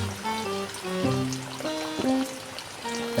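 Spring water from a mountain source pours and trickles steadily into a container, with a gurgling, shifting pitch as it fills, close and continuous.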